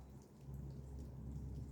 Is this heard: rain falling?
yes